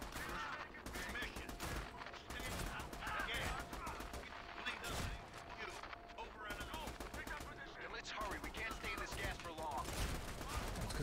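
Dense video-game gunfire rattles almost nonstop in rapid automatic bursts, loud and close, with a faint voice now and then beneath the shooting.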